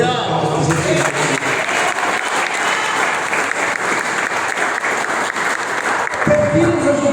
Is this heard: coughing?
no